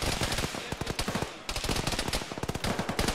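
Rapid automatic gunfire in the Arma military game, sounding as repeated bursts of sharp cracks with brief pauses between them, loud and close throughout.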